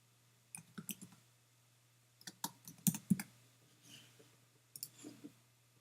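A computer mouse clicks a few times, crisp and close, in scattered single and double clicks over a low steady hum while exporting a file in Photoshop. There is no talking.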